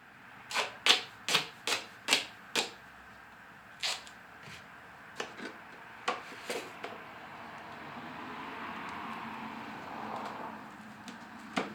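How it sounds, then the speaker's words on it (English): Duct tape is pulled and pressed onto a seed container for winter sowing: a close series of short, sharp ripping bursts, rapid at first, then sparser, with a softer rubbing noise in between. "now we just duct tape"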